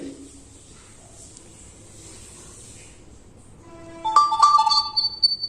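An outgoing mobile-to-mobile call starts ringing after a few seconds of faint hiss, the ringback tone repeating clearly and loudly over the last second and a half.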